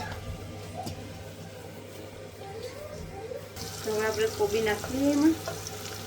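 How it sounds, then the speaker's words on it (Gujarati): White cabbage being stirred into a pan of cooked potatoes and spices, soft scraping and a sizzle rising partway through, fairly close with kitchen background hum. "હવે ને હવે કોબી નાખી અને ફેરવી લઈ"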